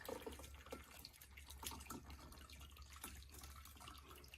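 A cocktail is poured into a deep martini glass, a soft continuous trickle and splash of liquid with light dripping, fairly quiet and steady from start to finish with no one speaking.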